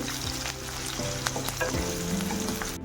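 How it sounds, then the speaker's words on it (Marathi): Chopped onion frying in oil after cumin and mustard seeds have crackled, for a dried val bean pod vegetable dish, a dense continuous sizzle with occasional stirring scrapes, close and steady, no voices. "आता आपल्याला हा कांदा छान परतून घ्यायचा आहे सोनेरी कलर येईपर्यंत"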